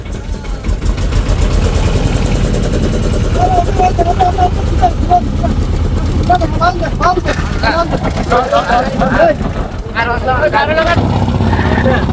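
A trawler boat engine on the Meghna river, towing another boat: a steady, loud low rumble that never lets up, with people talking over it throughout.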